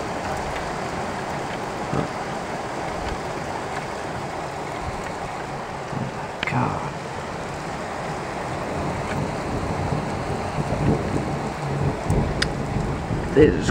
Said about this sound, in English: This is called heavy thunder.